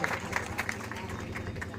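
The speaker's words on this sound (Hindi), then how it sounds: "एक बार जोरदार ताली से आप सभी स्वागत करें" Audience at a political campaign event in Siwan, Bihar, clapping in a steady, moderately loud wash of applause with crowd murmur underneath.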